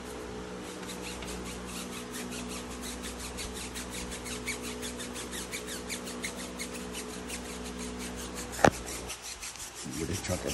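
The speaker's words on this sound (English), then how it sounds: "Giving those tire sidewalls a quick scrub" A brush scrubs a car tire sidewall in fast, steady back-and-forth strokes, a continuous rhythmic rasping that runs close and loud, ending with a sharp squeak and a short break.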